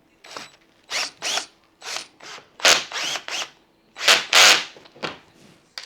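A bolt is tightened during office chair assembly, giving a series of close, crisp ratcheting bursts separated by short pauses, with no talk.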